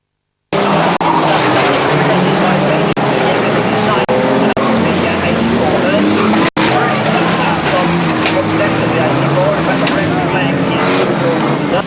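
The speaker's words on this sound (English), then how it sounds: "And that former world champion Terry Coke driving in the 627 Cap, still 5 leading down that far side" Banger cars race around the oval at Arlington Stadium, a loud, continuous roar of engines with scraping and tire noise, and a commentator talking over the action throughout.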